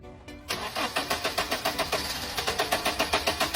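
A car that won't start is cranked, the starter turning over in a fast, even pulsing rhythm after a brief quiet moment, loud and close, without catching; no one speaks.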